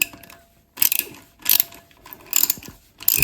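A spanner loosening the worm-drive clip on a WC pan connector, with short bursts of rapid metallic ratcheting clicks separated by brief pauses, close up and with no talking.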